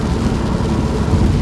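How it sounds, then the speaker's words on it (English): Heavy rain pours in a dense, steady roar with no breaks, loud and close throughout. "it's raining so bad"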